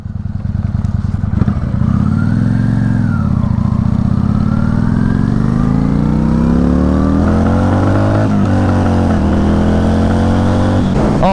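A V-twin motorcycle engine revs up and holds a throaty, pulsing roar, with pitch climbing and settling, loud and close throughout.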